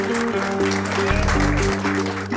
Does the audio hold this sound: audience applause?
yes